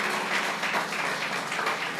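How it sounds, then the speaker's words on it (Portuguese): A church congregation at Paz Church in Marília applauds in praise of Jesus, a short burst of steady, close, crowded clapping that stays even throughout. "que vocês me ajudem com uma salva de palmas ao Senhor Jesus"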